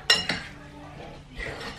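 Flaxseed stirred into banana muffin batter: two sharp clinks of a utensil against a bowl, then a soft scrape, faint and close.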